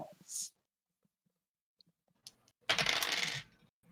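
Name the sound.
dice being rolled in a tabletop D&D game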